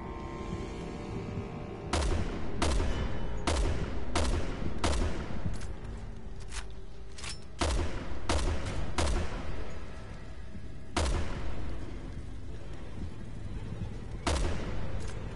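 Rifle gunfire in a Resident Evil game, sharp loud shots in scattered single and double bursts across the span, with ambient game noise between them.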